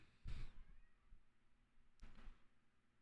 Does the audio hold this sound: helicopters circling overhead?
no